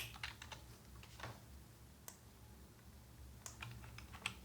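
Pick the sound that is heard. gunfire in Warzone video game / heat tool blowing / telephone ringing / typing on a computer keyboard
typing on a computer keyboard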